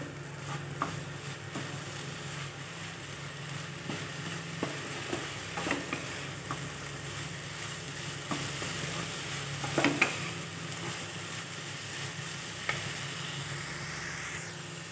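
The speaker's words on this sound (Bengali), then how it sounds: "এবার আমি এখানে গ্যাসের ফ্লেমটা হাই করে দেবো দিয়ে ভালো করে নাড়বো ছাড়বো" Papaya curry stirred over a high gas flame, a continuous moderate sizzle with repeated spoon scrapes and soft pan knocks at an irregular rhythm, close up and without talk.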